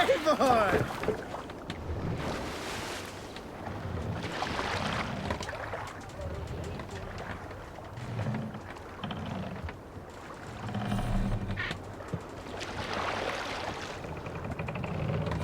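Oars pull a Viking boat through water in Assassin's Creed Valhalla, rhythmic swells of splashing strokes every couple of seconds over wind and creaking wood, with voices speaking at times.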